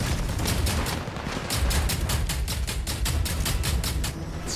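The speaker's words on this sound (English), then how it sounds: "Oh my god, what is shooting me there?" Incoming fire aimed at the player in the mech shooter Hawken Reborn, with a rocket turret and tank on the field: a steady, rapid string of evenly spaced shots, loud and close, over a continuous heavy rumble.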